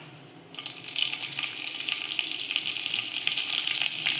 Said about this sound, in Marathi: तेल गरम झाल्यावर आपण जिरं टाकलंय म्हणून ते फटफटते